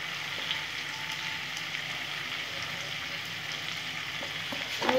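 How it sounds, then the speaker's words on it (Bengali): Ilish fish seasoned with salt and turmeric fries in hot oil, a steady close sizzle and crackle throughout, with a sharper burst of spattering right at the end. "আমি একটু ভেজে নেব"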